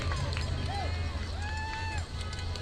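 A crowd at an outdoor vigil in Mill Creek Park, Kansas City, Missouri cheers and makes noise in a steady, dense roar with scattered whistles, continuous throughout and dipping slightly near the end.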